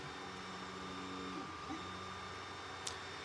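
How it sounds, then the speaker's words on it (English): A Creality Ender 3 V3 CoreXY high-speed, unenclosed 3D printer runs with a steady whirring hum and shifting motor tones, moderately quiet and close, with a brief click near the end and no talk. "it sounds like about 53 decibels, maybe 55, which is a little loud, but it's unenclosed and it's a high-speed printer"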